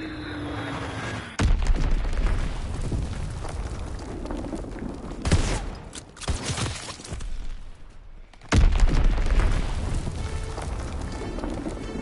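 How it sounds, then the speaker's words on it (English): Enemy bombs blasting during an online multiplayer match of Call of Duty WWII, heavy broadband booms hitting sharply several times amid constant battlefield rumble, with the loudest impact near the end and a long roaring tail. "Enemy bomb incoming. Get to cover."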